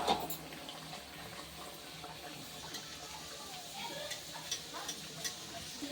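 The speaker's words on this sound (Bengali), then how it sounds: "এবার এই গরম তেলে আস্তে করে এইভাবে কচুরিগুলো ছেড়ে দেব।" Kachori frying in hot white oil in a wok, a soft steady sizzle and bubbling with faint stirring clinks, fairly quiet and continuous.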